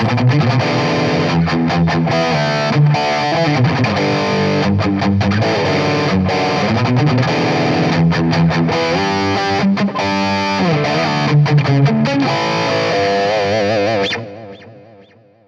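Heavily distorted electric guitar plays a busy, many-note riff with chorus shimmer, loud and continuous, ringing out briefly at the end.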